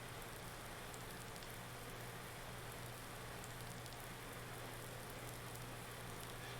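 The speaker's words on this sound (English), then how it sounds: "I can now hear the rain." Rain in the farming video game Farming Simulator 19, a steady, even hiss of falling rain that runs unbroken throughout at a fairly low level, with a faint low hum underneath and no talk.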